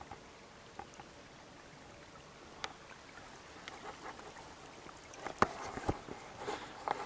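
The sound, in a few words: creek flowing in a park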